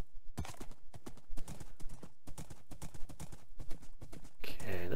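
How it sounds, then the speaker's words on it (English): Horse hooves in Minecraft clopping in a quick, irregular run of distinct close thuds, followed by a brief louder rush at the end. "Is that my horse, or are there more horses around?"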